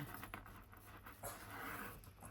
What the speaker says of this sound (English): My dog wants to climb on my